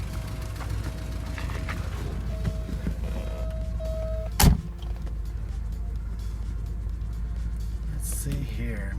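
A 1988 Porsche 944 creeps slowly around a yard, its steady low engine rumble running throughout, with a brief sharp thump midway and some faint mechanical whirs and clicks from the cabin.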